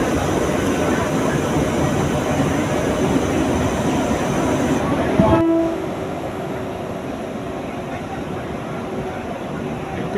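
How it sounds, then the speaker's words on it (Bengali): Loud rumble of a train departing on the Katwa–Ahmadpur line of Eastern Railway in India, a short horn blast midway, then a steadier, quieter running noise. "ট্রেনটা ছেড়ে দিল"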